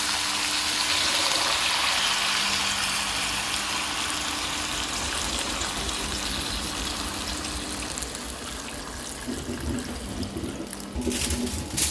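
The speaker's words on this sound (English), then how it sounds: "Some water in." Water pours steadily into a roast beef pan holding cut potatoes and garlic, a continuous close gushing rush lasting several seconds with no talk.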